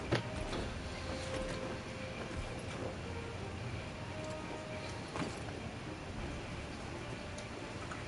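Horse hooves clip-clop faintly in a fantasy role-playing video game, a quiet irregular clopping over a soft, constant background hum.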